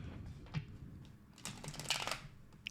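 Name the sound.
shuffling tarot cards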